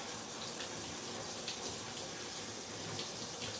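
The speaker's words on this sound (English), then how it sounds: "in a mesh strainer, I will rinse it until the water runs clear" Kitchen tap water running steadily through a mesh strainer while quinoa is rinsed, a continuous close splashing hiss with no talk.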